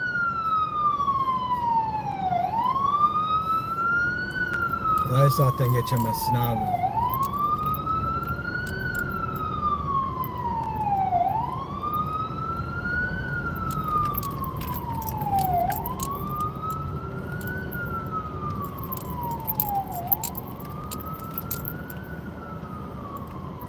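An ambulance siren moves through packed New York City traffic, its loud wail rising and falling in steady cycles every four to five seconds over a constant road rumble, while someone speaks briefly.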